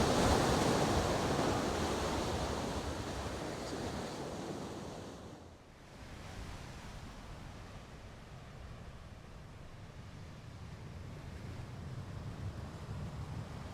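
Ocean surf rolls onto a beach by the dunes in winter, a broad continuous wash that swells loud at first, dips briefly, then settles into a steady softer roar with some wind.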